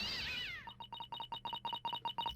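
A cat in The Great Ace Attorney gives one drawn-out meow, followed by a rapid run of short, evenly spaced electronic chirps, clean and moderately loud with no talking.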